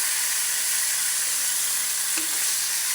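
Pork sizzling in a hot wok-style pan with onions for sinigang, a steady bright frying hiss throughout with a brief small clink partway, no talking.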